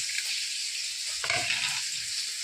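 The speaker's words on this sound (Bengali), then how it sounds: "এদিকে মাছ ভাজা হতে হতে" Khoira fish frying in hot oil in a home kitchen, a steady close sizzle with a brief louder burst of spitting and crackle midway, no voices.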